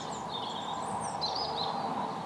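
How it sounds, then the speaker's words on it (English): A robin sings faintly at a distance in spring, with thin high warbling phrases drifting over a soft steady background hush. "The robins singing all the time."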